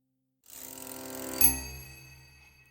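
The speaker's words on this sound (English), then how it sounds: "That is definitely a record number of bicycle bells." A bicycle bell rings with a bright metallic ding, its tone lingering and fading out slowly after the strike.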